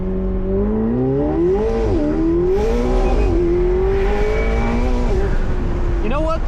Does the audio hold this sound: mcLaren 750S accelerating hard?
yes